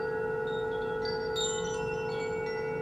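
A Koshi wind chime used for sound meditation rings softly, long shimmering tones hanging and overlapping, with a few fresh strikes sounding partway through.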